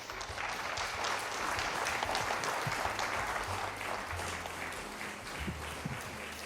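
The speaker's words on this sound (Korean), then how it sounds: "큰 박수로 맞아주시기 바랍니다." Sustained audience applause at a Korean academic spring conference greets a professor emeritus of Eastern philosophy taking the stage to lecture, a dense, even wash of clapping that holds steady throughout with no pauses.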